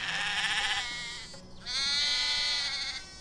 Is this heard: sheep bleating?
yes